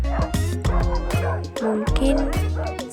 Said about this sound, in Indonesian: Anjing menggonggong